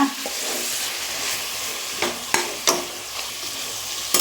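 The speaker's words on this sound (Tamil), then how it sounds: "அதுவும் எண்ணெயில் வதங்கட்டும். நல்லா கலந்து விடலாங்க." Ingredients sauté in hot oil for a chicken curry, giving a loud continuous sizzle close up, broken by a few sharp spoon scrapes as the pan is stirred.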